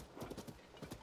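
Rapid clip-clop of horse hooves trotting at a steady rhythm in the video game Zelda: Tears of the Kingdom, close and fairly quiet, with a faint noisy background.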